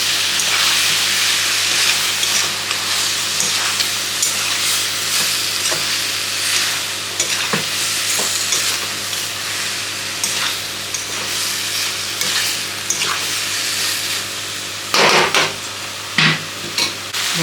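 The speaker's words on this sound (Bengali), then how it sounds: "এখন নাড়িয়ে দিই।" Jackfruit and prawn curry sizzles steadily in a pan after turmeric and garam masala go in, with scraping stir strokes and a few sharp clanks of a spoon against the pan near the end.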